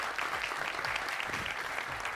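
A studio audience at a Punjabi television entertainment quiz show claps steadily in a brief, even burst of applause with no speech over it.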